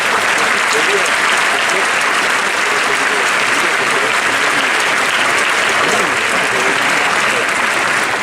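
Sustained audience applause at a music and testimony event for students of the Barbarigo school, awaiting the Pope; dense, even clapping fills the space steadily throughout.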